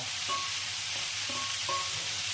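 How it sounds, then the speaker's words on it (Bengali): Vegetables stirred in a frying pan with spices for Bengali bhoger labra, a constant hissing sizzle with a few faint scraping strokes of the spoon, close and even, with no talking. "এই মশলাগুলো দেওয়ার পর ভালোভাবে সবজিগুলো নাড়িয়ে নিতে হবে"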